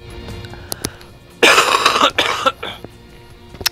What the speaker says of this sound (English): I'm gonna cough again in a minute.